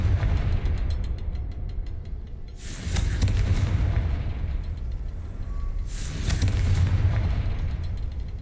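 In Hogwarts Legacy, the Confringo blasting spell sets off two heavy explosive bursts a few seconds apart, each a loud, crackling roar over a constant low rumble.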